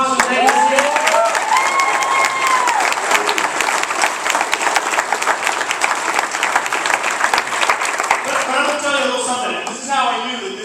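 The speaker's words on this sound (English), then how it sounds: "let's have a little round of applause for Banquet." A banquet crowd at an awards dinner claps in a long, dense round of applause that runs throughout, with a voice talking over it at the start and near the end.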